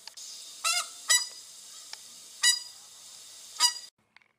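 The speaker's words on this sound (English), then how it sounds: "Several other species of geese also make the migration, like these white-fronted geese." White-fronted geese calling in a California wetland, with five or six loud, nasal honks spaced irregularly over a soft background hiss, and no other voices.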